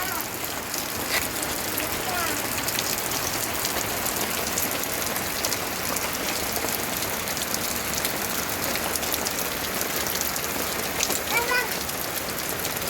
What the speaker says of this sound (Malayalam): ഞങ്ങളുടെ ഇവിടെ നല്ല മഴയുണ്ട് ഇപ്പോൾ